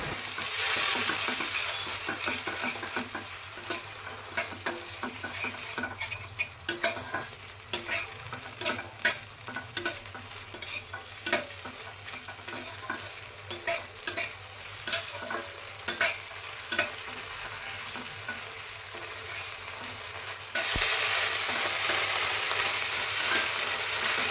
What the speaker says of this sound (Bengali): একটু জল দিই মশলাটা ভাজাতে,